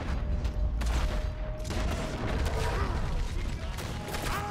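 A gunshot and surrounding gunfire in Red Dead Redemption 2 make a dense, loud, continuous crackle of shots and mechanical clatter, with a voice faintly present underneath.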